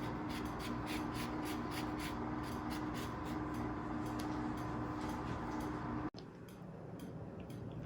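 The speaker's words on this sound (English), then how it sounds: "I love zesting lemons." Lemons zested for homemade lemon sorbet, giving a steady, rhythmic scraping rasp close up that repeats without a break and then stops abruptly near the end.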